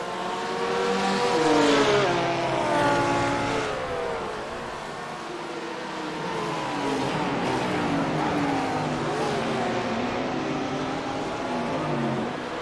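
Ferrari GT3 race car engine in a racing video game at Imola, a loud continuous drone whose pitch rises and falls through gear changes and throttle shifts, with other cars' engines layered in, no talking.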